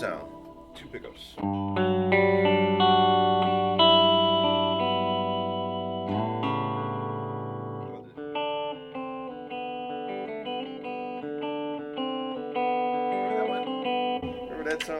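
Electric guitar on its middle pickup setting, two pickups combined, from a 2024 Veleno Original Legacy model, playing sustained chords and notes that ring out, loud and close with some effect coloring.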